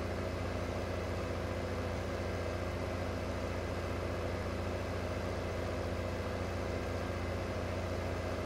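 A T8 tractor engine idles in the Farming Simulator 2015 video game, a steady, unbroken low drone that holds level throughout with no speech over it.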